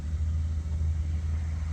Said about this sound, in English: we were idling pretty low there